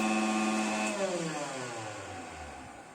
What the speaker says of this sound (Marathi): गाजर आणि बीट मिक्सरमधून काढून घेत आहे